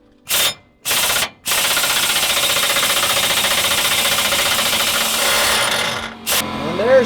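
An impact wrench is used to remove a car's worn shock absorber. Two short rattling bursts come first, then a long, loud, continuous hammering rattle close by that fades briefly near the end.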